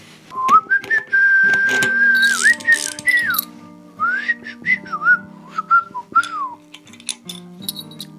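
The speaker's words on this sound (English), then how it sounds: "It's probably a good thing I can't whistle better than I can, or I'd be doing it all the time." A person whistles a wavering melody up close, with short phrases and pauses, over light clicking and rattling from bike work nearby.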